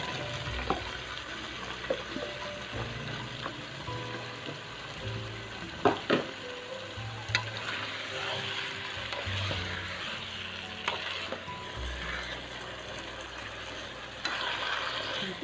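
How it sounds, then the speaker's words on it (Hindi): Minced meat and potatoes fry in a pan with a continuous sizzle. Scraping stirs and occasional clinks come through at a moderate level, with no talking. "ये इसको हम अच्छे से भून लेंगे, कीमे को और आलूओं को।"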